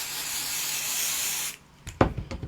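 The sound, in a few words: spray basting fabric piece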